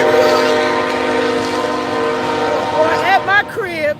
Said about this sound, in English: Y'all know the train got to make an appearance in all my videos